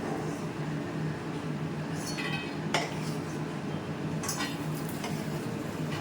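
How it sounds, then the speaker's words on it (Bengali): Peanuts fry in a pan with a steady, close hiss, broken by a few sharp metallic scrapes and clinks as a spoon stirs them. "একটু লাল লাল করে ভাজবো বাদামগুলো"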